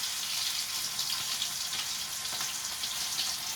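Two fish pieces splatter and crackle in hot oil in a pan, a steady, bright sizzle that runs without pause and has no talk over it.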